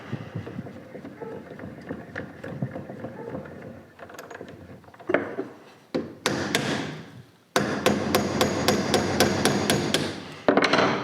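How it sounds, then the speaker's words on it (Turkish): Repeated sharp metallic hammer blows, close and loud, coming in bursts after a quieter stretch of clatter and tool handling while rolling 36-caliber cartridge casings. "burada çekiç yardımıyla"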